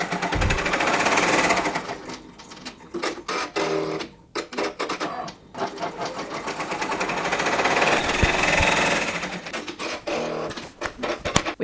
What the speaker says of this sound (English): if we click on lock and press the green flashing button, it will now start sewing our placement stitch